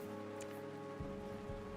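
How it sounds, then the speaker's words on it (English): Steady rain falls in a scene of the game Autumn Spirit, an even hiss of drops on surfaces with a low hum beneath and a couple of soft thuds, no voices. "There is a rain effect. Okay. I guess it is raining in this scene."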